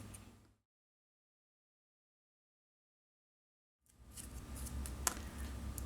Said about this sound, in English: you can trim these. You can just trim them down.